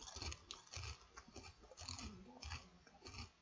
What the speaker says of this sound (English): when I'm eating potato chips